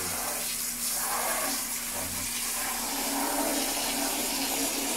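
A plumber pours water into a dry drain, a loud, continuous gushing and rushing flow up close that stays strong throughout with no talk.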